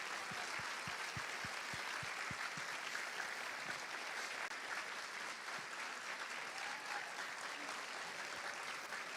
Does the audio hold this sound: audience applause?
yes